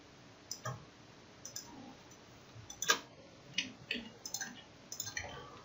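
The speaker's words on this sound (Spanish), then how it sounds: "le damos clic, 5 amperios." Soft computer mouse clicks while working in the LTspice circuit simulator, a handful of faint, isolated ticks spread irregularly across a quiet background.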